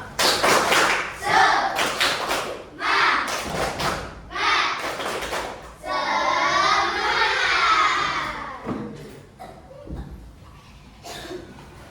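Classroom of children doing a rhythmic spirit clap as an icebreaker at the end of a lesson: several loud bursts of clapping in a set pattern, then a stretch of children shouting together, with some scattered claps and voices afterward.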